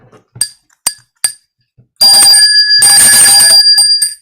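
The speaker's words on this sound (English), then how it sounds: "I should get the bell rung just because I was close." A bell rung as a sound effect on a weather podcast: a few short soft knocks, then a bright, sustained metallic ringing with steady overtones lasting about two seconds before it cuts off.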